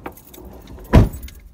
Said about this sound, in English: I am getting ready to warm up my car so the children can come down.